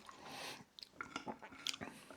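Sweetcorn fritters with black bean salsa, onion and tomato are chewed close up. Soft, wet mouth sounds come first, then a run of irregular crunchy bites, with no talking.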